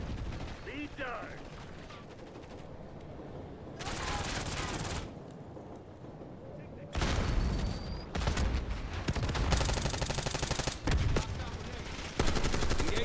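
Video game gunfire in a multiplayer shooter, with repeated loud bursts of automatic fire in several stretches and brief pauses between them, mixed with game sounds and voices.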